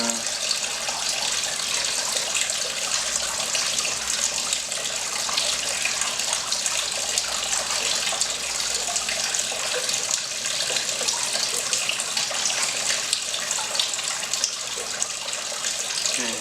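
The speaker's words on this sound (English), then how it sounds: "Splashing." Steady water splashing and running in a workshop setting, a continuous broadband wash like a tap or rinse, loud and close, lasting without pause and with no talk.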